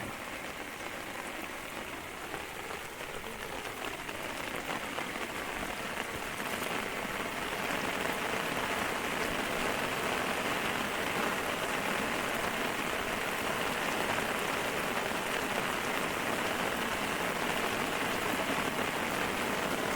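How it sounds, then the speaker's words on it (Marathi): Steady rain pours down during the first monsoon in a rural Konkan village, a dense, even hiss on the ground and surfaces that continues unbroken and fairly loud throughout. "पाऊस पडता त्याच्यामुळे सोयी दिसत नाही"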